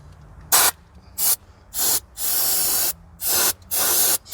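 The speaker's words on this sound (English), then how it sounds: "Spray a little of this down here." Aerosol can sprayed into a car engine that won't start, in several short bursts followed by one long continuous hiss and a few more quick blasts, close and loud.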